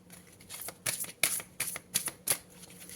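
Tarot cards are shuffled by hand up close, with about six quick crisp riffling bursts at an uneven rhythm against a quiet room.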